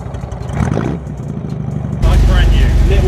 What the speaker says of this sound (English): Fingers crossed. It starts straight away.